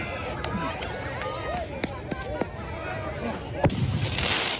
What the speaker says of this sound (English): Footage capturing fireworks being launched at law enforcement.